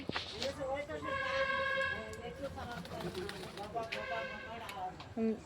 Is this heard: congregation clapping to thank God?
no